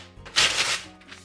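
A knife finely chopping cabbage: a short, close burst of crisp cutting that swells and fades within about a second, quiet and without speech.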